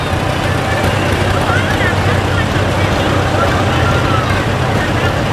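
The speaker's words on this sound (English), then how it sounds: "who is driving a 59 International Harvester" A 1959 International Harvester tractor drives in a small-town Lord's Acre Day parade, its engine a steady, loud rumble that runs unbroken and close by for the whole stretch.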